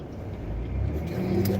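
A passing car rumbles steadily on the road during a driving test, its low engine drone holding close and even from start to finish with no one speaking.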